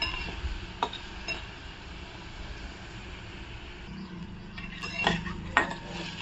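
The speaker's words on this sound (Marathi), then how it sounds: "कांदा छान असा आहे ना गोल्डन ब्राऊन असं करून घेणार आहोत." Onion sautéing in a pan until golden brown for a cabbage dish, giving a faint steady sizzle with occasional clinks and stirring scrapes of a utensil against the pan.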